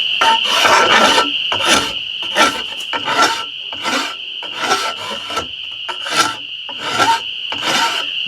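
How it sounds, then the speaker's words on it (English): Drawknife held at a right angle scraping thin layers off a hickory self bow, a dry rasping stroke repeated about eight times in a steady rhythm, close and clear with no talk. "Now I'm just moving the draw knife at a 90-degree angle and just scraping the layers of wood off."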